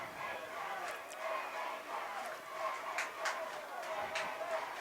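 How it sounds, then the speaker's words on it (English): Crowd noise at a Utah high school football game, Manti hosting North Sanpete, a steady murmur of spectators with a few brief louder shouts and cheers rising over the bed of voices. "Crowds are really getting into it."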